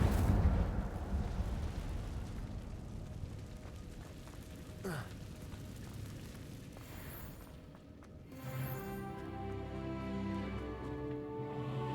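Incendio fire spell cast in the video game Hogwarts Legacy, a rumbling fiery burst with a brief whoosh partway through, followed by a denser roar of flame with game music underneath.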